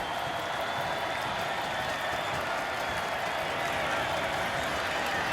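A record college football stadium crowd of over 25,000 at Indiana Hoosiers versus Western Kentucky roars and claps in a dense, unbroken wall of noise that stays loud and steady throughout.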